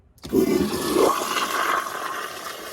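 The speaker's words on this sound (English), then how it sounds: "so let's give it a flush" A restored 2016 Toto CT705 flushometer toilet with a 1.6 diaphragm and 40 psi tank flushes with a sudden loud rush of water, a strong gurgling surge that holds steady and then tapers slightly over about two seconds, heard alone and close.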